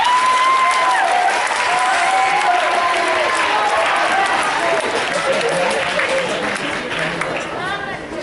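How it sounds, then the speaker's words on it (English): A school assembly audience applauds a guest being introduced: dense, sustained clapping from a large crowd in a hall, loud throughout and easing slightly near the end, with scattered voices and cheers mixed in. "go ahead, you can applaud"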